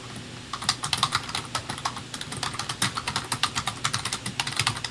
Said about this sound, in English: Loud ass keyboard.